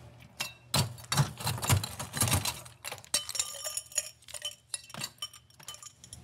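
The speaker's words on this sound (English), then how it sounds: "We're going to fill our glass with some fresh ice." Fresh ice dropped into a cocktail glass for a cherry rum drink, a cluster of bright clinks and clattering cubes up close, settling into scattered lighter taps.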